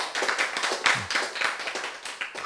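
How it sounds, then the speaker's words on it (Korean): An audience at a Korean church sermon claps in a brisk, uneven burst of applause, individual hand claps distinct and fairly close, without speech over them. "박수."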